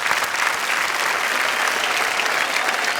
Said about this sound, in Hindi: एक बार जोरदार तालियां फिर इनके लिए।